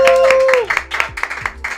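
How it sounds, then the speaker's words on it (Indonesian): Podcast hosts clap a few times up close, sharp separate hand claps in an uneven rhythm, with a voice briefly heard at the start. "Tepuk tangan dulu dong."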